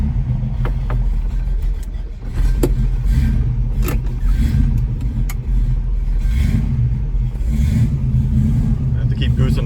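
A 1966 Ford Mustang with a 289 V8 rumbles loudly and steadily while driving, and the gas is pushed again and again to keep it from stalling. A low, continuous engine drone fills the clip with faint rattles over it.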